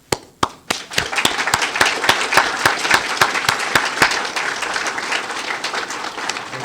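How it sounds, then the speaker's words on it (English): Applause from an audience at an environmental education awards ceremony: a few scattered claps at first, then steady clapping from a modest crowd that carries on evenly, fairly close, with no talking. "We applaud Raul for his creativity."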